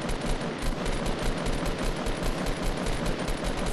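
Dense, continuous automatic gunfire from a Fortnite battle royale match, a loud sustained rattle of rapid shots with no talking over it.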